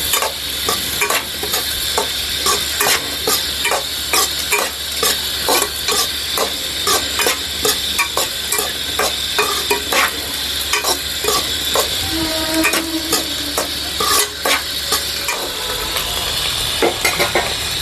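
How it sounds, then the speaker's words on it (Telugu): A spatula stirs street-style chicken noodles with vegetables, egg, chicken and spices in a hot pan, making rhythmic scraping and clanking strokes over a continuous sizzle for nearly eighteen seconds. "ఇప్పుడు ఇవన్నీ కలిపేద్దామండి. వెజిటేబుల్స్, ఎగ్గు, చికెను, మసాలాలు అన్నీ కలిసేలాగా."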